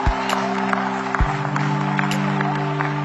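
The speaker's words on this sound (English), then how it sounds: "Oh, come on, clap anyhow" A church congregation claps and applauds during a sermon, scattered sharp claps rising over a low crowd murmur, with sustained musical tones held underneath throughout.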